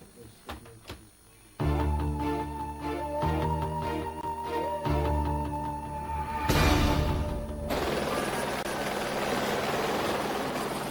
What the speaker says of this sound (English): The West Midlands Police helicopter operates day and night